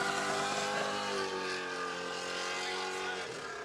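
An RC drift car with a Pandemonium chassis circles the track at a USDC Pro Am 2024 competition, its electric motor a steady, loud, whining drone whose pitch slides as the revs ease off, with no talk.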